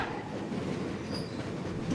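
The Jose Cuervo luxury train rolls on rails in Mexico, a faint steady rumble of wheels with a thin squeal heard from inside the car.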